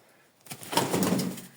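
A short burst of pigeon sounds nearby, soft cooing mixed with rustling, lasting only about a second.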